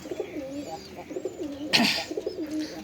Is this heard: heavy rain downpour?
no